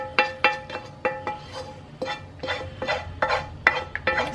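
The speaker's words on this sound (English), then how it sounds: "Scrape every bit of that." A utensil scraping and stirring celery and onions into a buttery chicken dressing in a pan, a string of about a dozen short scrapes and clinks in an uneven rhythm, close and fairly quiet.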